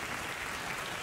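Studio audience applause on a late-night talk show, a steady dense wash of clapping at moderate level filling the whole moment with no voices over it.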